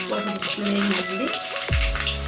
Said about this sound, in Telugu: పోపు దినుసులు కొంచెం వేగిన తర్వాత ఎండుమిర్చి మనం దాంట్లో వేయాలండి